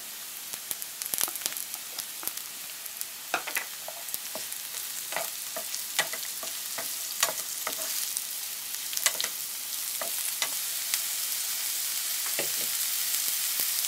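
Sliced or diced mushrooms go into a hot frying pan and sizzle with a constant crackling hiss, spattered with sharp pops and stirring clicks that build slightly louder toward the end; no voices.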